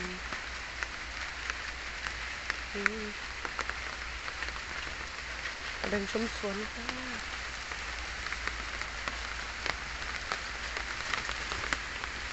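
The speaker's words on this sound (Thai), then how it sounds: "ฝนตกฝนตกฝนตก" Rain falls on a small home garden with fish tubs and potted plants, making a steady, soft hiss throughout. Someone speaks briefly over it now and then.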